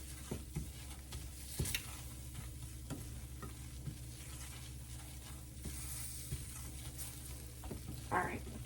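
Flour roux for Southern cream gravy cooking in a pan while being pushed side to side, a soft, steady sizzle with periodic scraping strokes of the utensil, fairly quiet and close.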